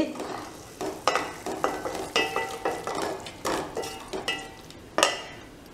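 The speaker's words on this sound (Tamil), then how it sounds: "இப்போ தக்காளி நல்லா வதங்கிடுச்சு" Tomatoes stir and sizzle in a pan, with repeated scraping of a utensil against metal in a steady rhythm, close by.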